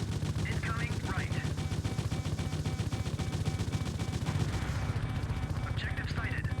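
Rapid automatic cannon fire from a helicopter gunship in a video game, a fast unbroken stream of loud shots with brief synthetic radio-style voice callouts over it.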